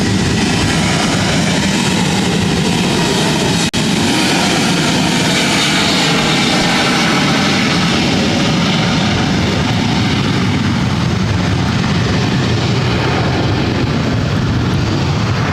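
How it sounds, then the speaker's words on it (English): A United Airlines Boeing 737-800 jet takes off from LAX bound for Denver, its engines a loud, sustained roar of broad rushing noise that holds steady throughout without a break. "This takeoff is United Airlines 1897, taking off to Denver on the 737-800."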